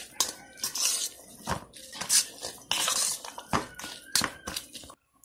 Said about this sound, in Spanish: Le voy a colocar un toquecito de aceite para luego introducir la carne molida